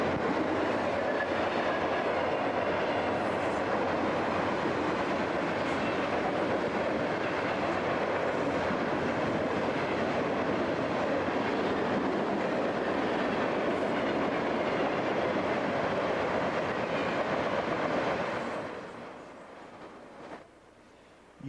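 Northbound Union Pacific freight train HOAS rolling away at Ardiola Siding, a loud continuous rumble and clatter of cars and wheels on rail that holds steady and then fades off near the end.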